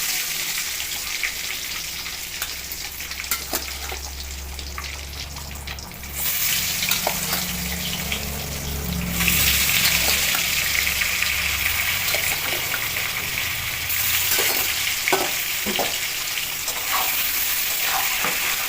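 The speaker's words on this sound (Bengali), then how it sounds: "আলুটা ভেজে নেব সেজন্য তেলের ভিতরে একটু হলুদ তুলে দিলাম" Boiled potatoes sizzle and crackle steadily in hot oil with turmeric, a continuous hissing fry that grows louder partway through, with occasional clinks of stirring.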